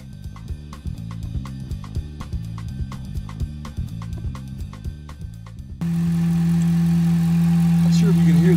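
A truck engine fitted with a Volant air intake runs with a pulsing, rhythmic drone, then a loud, steady resonant hum takes over and holds to the end.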